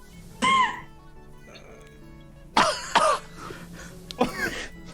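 Three or four separate throat-clearing coughs spaced across a few seconds, close and fairly loud, with quiet pauses between them and no talking.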